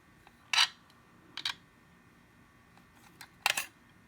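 A polymer clay piece for a necklace is trimmed with a blade or scissors, giving three faint, crisp snips spaced about a second or two apart in an otherwise quiet room.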